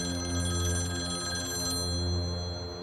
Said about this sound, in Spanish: el señor Portela recibió varias llamadas.